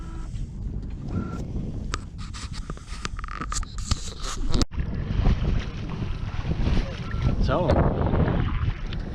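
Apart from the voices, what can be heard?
wind while sailing a sailboat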